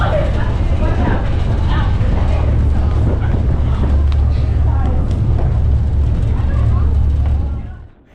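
Strong wind on a ferry deck crossing to Ceuta buffets the microphone with a constant loud low rumble and roar for several seconds before it cuts off.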